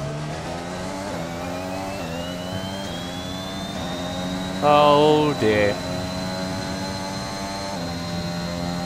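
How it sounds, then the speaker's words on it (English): Racing car engines from the F1 2021 game at the Canadian track, a steady harmonic drone with a rising whine and a louder burst of revving about midway, under a brief spoken exclamation. "I just heard some engines"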